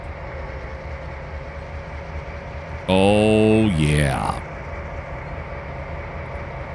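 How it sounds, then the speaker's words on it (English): A passing freight train in the Trainz 2022 rail simulator swells loud for about a second and a half with a rising, shifting mechanical tone, then fades back into steady background noise while someone speaks briefly. "Look at this train, would you?"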